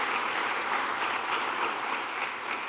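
Steady applause from an audience at a Nordic Women in Tech awards ceremony, a continuous even wash of many hands clapping at moderate volume, heard alone.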